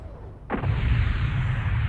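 SRM missiles fire and strike a target in the mech combat game MechWarrior Online: after a quiet start, a sudden loud burst of launches and impacts breaks into a sustained, dense rumble of explosions.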